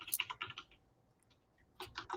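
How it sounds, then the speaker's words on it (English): A person typing on a computer keyboard nearby, two short bursts of quiet key clicks separated by a brief pause, faint and alone with no talk. "She's typing."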